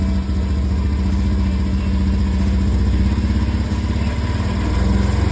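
Honda Beat Fi V2 scooter engine with a rough, hesitant response at the start of the throttle, running close by with a steady pulsing idle and gentle throttle blips that rise and fall slightly over several seconds, no talk.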